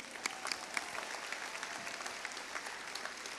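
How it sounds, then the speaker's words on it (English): Audience applause at a graduation ceremony, a steady wash of many hands clapping, moderately loud and even throughout, with no voices rising above it. "Now a round of applause."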